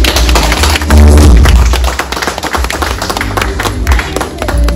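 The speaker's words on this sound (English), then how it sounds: "I would just like you to just give yourselves a round of applause." Round of applause from a crowd at a Ghanaian community anniversary celebration in Kiel, loud, dense clapping mixed with thumps and low booming room noise, continuous and close throughout.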